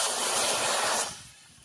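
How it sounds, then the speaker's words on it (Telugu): Water is poured into a kadai pan on a hot flame to start sugar syrup for gulab jamun, giving a loud, close splashing hiss that stops abruptly after about a second. "కళాయి పెట్టుకున్నాక వాటర్ పోద్దాం"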